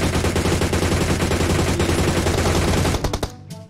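Dense, continuous rapid-fire gunfire from a battle royale video game pounds close and loud. It thins into a few separate shots at the end.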